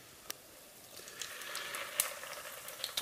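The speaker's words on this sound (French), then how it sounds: "Et au bain d'huile." Korean fish cakes (eomuk) frying in an oil bath, a soft steady sizzle with scattered small pops and crackles, fairly quiet and close, with no talking.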